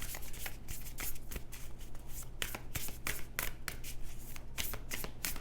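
Tarot cards shuffled continuously in the hands, a dense crisp riffling with frequent sharp slaps of cards settling, close and fairly quiet.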